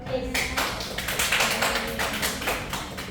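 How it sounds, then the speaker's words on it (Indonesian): Applause in a classroom, a short patter of hand claps from a small group, close and fairly dense for about three seconds. "Boleh beri aplaus untuk"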